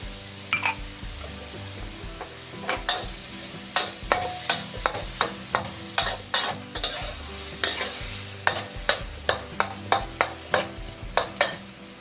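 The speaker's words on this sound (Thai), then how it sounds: "อันนี้เราผัดเข้าที่แล้วนะคะ" Minced pork stir-fried in a pan with fish sauce and seasoning sauce, a steady sizzle broken by repeated sharp scrapes and clacks of the spatula against the pan in a quick, uneven rhythm, close and fairly loud.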